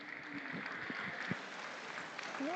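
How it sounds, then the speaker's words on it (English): An audience claps for young exhibitors at a state fair sheep show, a steady, moderate applause that holds throughout the short stretch, with a few voices rising over it near the end. "Let's give these young people a round of applause on a really good set."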